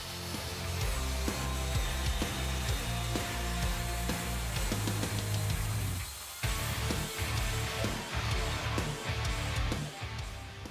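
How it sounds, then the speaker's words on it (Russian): A plunge track saw on a guide rail cuts the end off a wooden tabletop in two passes: a loud, continuous whining roar, a brief dip midway, then a second sustained cut. "при помощи пилы с протяжкой надо убрать лишнее"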